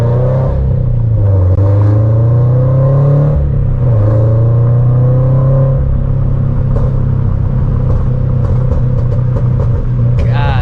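A Toyota 86 with a loud exhaust and an E85 pops-and-bangs tune drives, its engine droning and rising in pitch through gears, with crackling pops toward the end, close and dominant throughout.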